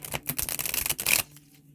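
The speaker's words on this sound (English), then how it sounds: "So one more shuffle, they say." A quick burst of tarot cards being shuffled, a rapid riffling flutter lasting about a second, ending with a sharp snap and then quiet.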